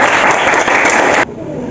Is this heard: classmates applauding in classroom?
yes